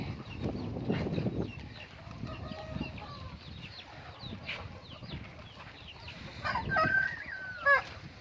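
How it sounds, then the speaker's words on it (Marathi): Free-range country chickens cluck faintly at a distance while sheltering in the shade from the heat, scattered short calls with a louder burst of squawks near the end. "सर्व कोंबड्या सावलीमध्ये दिसणार तुम्हाला, एक पण बाहेर दिसणार नाही उन्हामध्ये."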